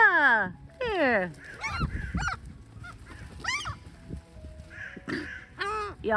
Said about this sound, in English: And my crows.